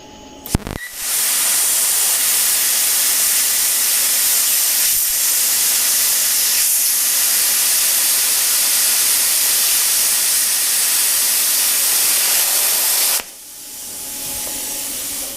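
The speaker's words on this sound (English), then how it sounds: "So we're going to try this at 20 amps on the old Cut Shifty. Let's cut." A Cut50 plasma cutter at 20 amps slices through metal: a sharp click, then a loud, steady roaring hiss for about twelve seconds that cuts off abruptly, leaving a quieter hiss behind.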